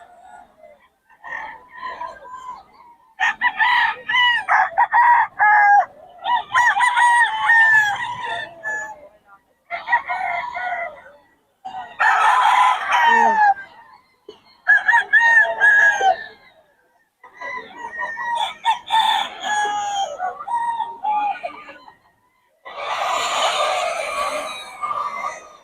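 Several Sweater gamefowl roosters crow repeatedly and loudly nearby, about eight long overlapping calls following one another with short gaps, with no talk over them.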